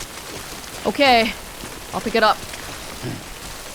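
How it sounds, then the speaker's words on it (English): Rain in the Death Stranding video game, a steady hiss of rainfall on surfaces running throughout, with a person briefly speaking over it. "So far, all we got is just rain."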